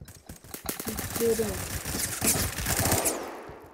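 Rapid automatic gunfire in a shooter video game rattles in dense bursts, loud and close, with a voice talking over part of it.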